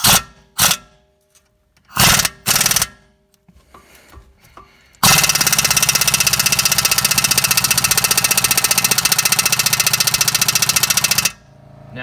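A stubby compact high-torque air impact wrench works a tight brake caliper bolt, first in a few short bursts, then in one long loud continuous hammering rattle lasting about six seconds before it stops.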